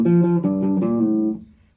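Electric guitar plays a short riff, a few picked notes on the low strings with a pull-off to an open string, close and alone before the last note rings out and fades.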